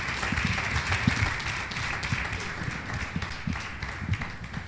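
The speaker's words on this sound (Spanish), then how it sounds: "Dale un aplauso al Señor de la gloria." A church congregation claps during a sermon, producing a continuous, fairly loud patter of hands with scattered thumps and a dense crowd wash throughout.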